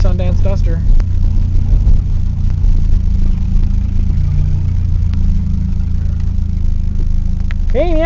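A 1987 Dodge Charger engine runs with a steady, loud low rumble that holds throughout, with brief voices over it at moments.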